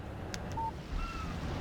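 A phone's short electronic text message alert chirps in the Alan Wake video game, a few quick tonal beeps over a faint low ambient hum, with no voices.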